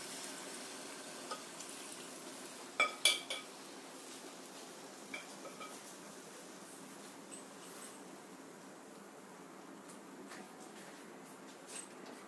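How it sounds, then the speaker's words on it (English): Soft, continuous crackling sizzle of batter frying in hot ghee, with a few clinks of a utensil against a pan early on; fairly quiet and steady, no talking. "Now I'm going to gently add my batter or mixture. Wow, you can hear that sizzle."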